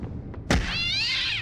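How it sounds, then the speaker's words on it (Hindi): A cartoon cat gives a sharp thump followed by a drawn-out, wavering meow that rings on loudly to the end, with a faint knock before it and no talking. "ये बिल्ली कहाँ से आ गई?"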